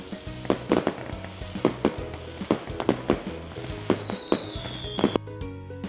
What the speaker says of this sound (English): Fireworks exploding up so high.